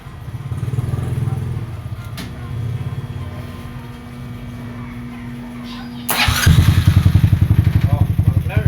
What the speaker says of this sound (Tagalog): Ngayong umaga, papaandarin ko na siya. Nakabit ko na yung carb saka tambutso.